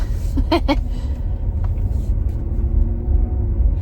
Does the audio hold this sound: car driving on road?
yes